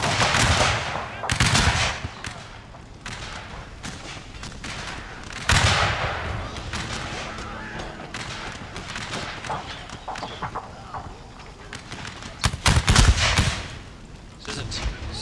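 Gunfire in the video game Helldivers 2, with repeated bursts of automatic fire and heavier blasts in bunches over a steady battle din, some loud and close, others lower in the background.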